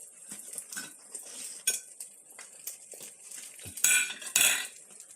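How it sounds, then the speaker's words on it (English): Dishes and cutlery rinsed in a kitchen sink: scattered clinks and scrapes of metal and crockery, with a couple of louder bursts of running water near the end, close and fairly quiet overall. "Have a few little dishes to rinse off."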